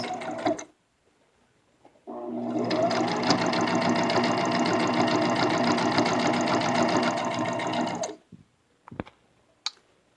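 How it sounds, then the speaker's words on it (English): A sewing machine runs steadily for about six seconds while stitching around the edge of a handmade fabric baby bib, a loud, even mechanical whir that stops abruptly, followed by a few small clicks and handling noises. "finish your stitch and go all the way around the edge of the bib"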